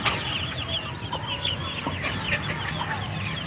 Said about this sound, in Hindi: इसको हमने कैद किया हुआ है क्योंकि बहुत बदमाश मुर्गा है ये।